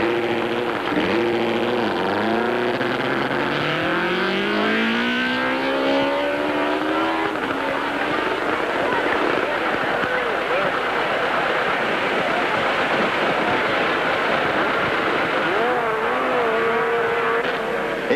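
Racing motorcycles rev and accelerate around the Laverton circuit during the warm-up lap before the 15-lap senior race of the 1976 Australian TT. Rising and falling engine whines sound continuously at moderate distance, and a commentator talks over them throughout.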